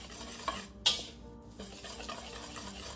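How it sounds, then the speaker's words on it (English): Lemon zest being whisked into a bunny cake batter in a bowl: quiet, soft swishing strokes with a couple of light clinks of the whisk against the bowl, close and faint, no talking. "just gonna whisk the zest in there"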